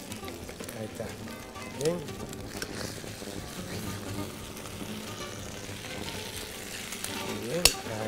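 Sofrito fries in a pan for saffron capon, a steady close sizzle with occasional scrapes of stirring, while a person speaks briefly over it.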